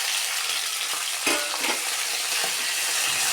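Onion and tomato frying in a pan for sambar give a steady close sizzle, with a few soft scraping stirs of a spoon breaking through.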